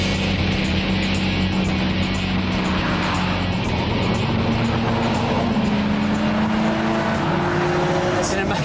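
Bugatti EB110 sports car driven hard on a racetrack, its engine note rising and falling through the gears with brief tire squeal, steady and fairly loud throughout, with a voice talking over it.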